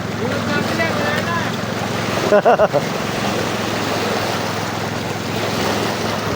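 Lake waves wash steadily around a small fishing boat out for tilapia near Binangonan, Rizal, with continuous rushing water and wind noise, a brief burst of voices partway through.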